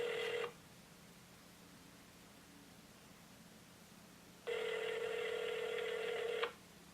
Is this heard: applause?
no